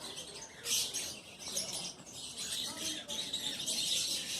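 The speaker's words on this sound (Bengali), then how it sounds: "খুব সুন্দর সুন্দর পাখি এই যে একটা পাখি আছে" Small caged birds at a Darjeeling aviary chirping and tweeting in repeated high bursts, moderately close, with soft human voices in the background.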